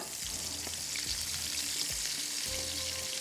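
Onions fry in ghee with garam masala in a pan for a macaroni qeema, a steady bright sizzle with a few soft, regular stirring scrapes underneath, close and moderately quiet.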